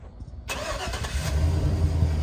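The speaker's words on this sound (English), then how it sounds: "Starts up easy." A 2010 Chevrolet Silverado 2500HD work truck engine cranks and catches after a half-second of quiet, then settles into a steady, moderately loud low idle rumble, with no talking.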